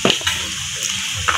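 Tap water runs onto vegetables being washed in a sink, splashing and gurgling close up with a few sharper bursts as the stream hits the produce.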